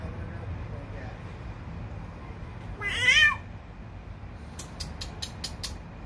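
A cat gives one clear, fairly close meow lasting about half a second, over a steady low background hum, followed by a few faint high clicks near the end; no one speaks.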